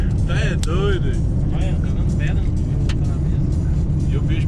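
A car passes on a dirt road and kicks up stones, a loud steady engine and tire rumble with scattered sharp ticks of gravel, while someone talks over it.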